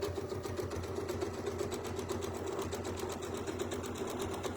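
A sewing machine runs steadily along a quilt stitch line with a 1/4 inch spacer, making a fast, even needle chatter close to the ear with no speech.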